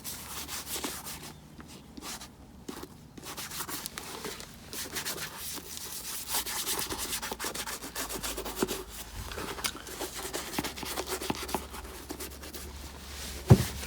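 Cream being rubbed over a leather shoe with a cloth, a continuous soft brushing and rubbing, close and quiet, with no talking.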